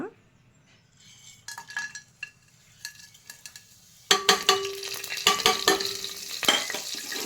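Whole spices such as cloves and cinnamon drop into hot oil, starting a bright crackling sizzle after a stretch of quiet scraping and clinks, with a steady frying hiss and occasional utensil knocks.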